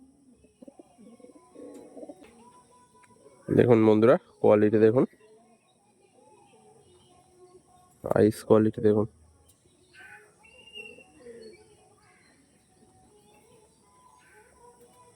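Malwai pigeons in a Kolkata loft coo softly and continuously in the background, low and faint, while someone talks loudly over them in two short bursts.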